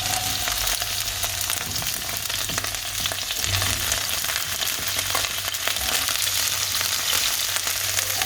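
Cauliflower pieces frying in an oil-filled pan, giving off a steady, dense sizzle and crackle that runs unbroken throughout, close and even, with no voices over it.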